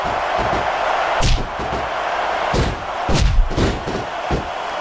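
An arena wrestling crowd roars steadily in WWE SmackDown vs Raw 2006, a submission match, with several heavy slams and thuds cutting sharply through the continuous cheering.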